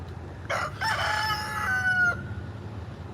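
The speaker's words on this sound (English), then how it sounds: "you can see this little miniature rooster" A lone miniature rooster crows once in a garden setting, a short, moderately loud cock-a-doodle-doo with a rising then drawn-out final note, over faint low background hum.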